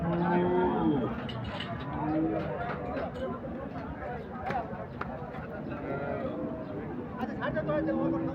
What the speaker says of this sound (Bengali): এক জোড়া বলদ গরু